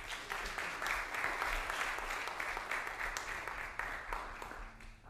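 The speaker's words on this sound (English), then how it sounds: "Please give Ernesto another round of applause" An audience applauds at a poetry recitation competition, a steady dense wash of many hands clapping throughout, fairly loud and sustained without a break.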